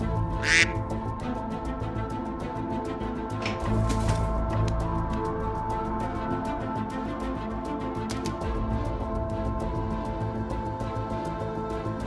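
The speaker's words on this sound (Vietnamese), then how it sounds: "Con ngỗng kia rồi." Honking goose calls from an animated 3D folk-tale cartoon, a few brief squawks standing out early over a steady bed of music and background sound, with no speech.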